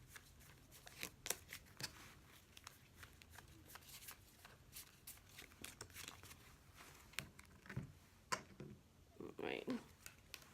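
Tarot cards are shuffled by hand in a series of quick, crisp riffling snaps and slides, close and fairly quiet, with brief pauses between bursts.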